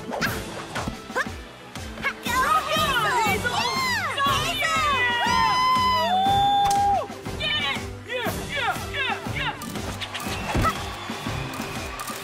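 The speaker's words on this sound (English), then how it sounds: "Even gymnastics cheering hamsters." Cartoon hamsters cheer at a gymnastics competition, a busy burst of squeaky, chirping high voices and whoops rising and falling together for several seconds, with lively background music underneath.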